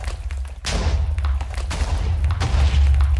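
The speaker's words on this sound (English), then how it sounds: "Sorry about all the booms." Explosions in the Minecraft video game: loud, overlapping booms and rumbling blasts roll on continuously, one after another, with no clear pauses.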